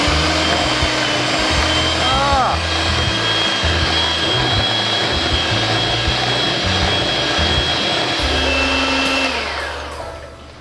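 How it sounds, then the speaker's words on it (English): An electric mixer blends keto cheesecake filling with lemon juice and vanilla extract, a loud, close, continuous motor whir that winds down at the end. "and then blend it with a mixer"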